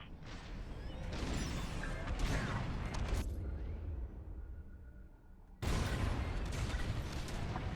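Y-wing bombing run in the Star Wars: Squadrons game: a loud, continuous rumble of blasts and engine roar that drops to a quieter hum midway, then surges back with heavy explosive booms.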